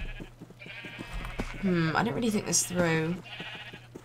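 Sheep in the Minecraft video game bleat several times in a row, with wavering calls. Someone talks over them.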